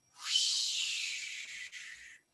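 A human voice imitates wind carrying sand and dirt with a steady breathy hiss lasting about two seconds, faint and with no other sound.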